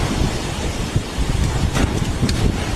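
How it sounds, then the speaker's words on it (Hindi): A strong windstorm roars loudly and steadily throughout, with broadband rushing and buffeting against the microphone and no talk. "बहुत तेज आंधी तूफान है।"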